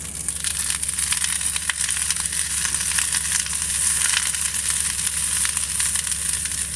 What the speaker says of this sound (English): So I put probably about half of the veggies in my little frying pan.